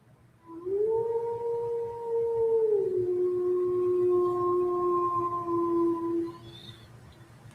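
A long, mournful dog howl, a single sustained voice that bends downward and holds for several seconds, fairly close and clear, played back as a sound effect before fading out.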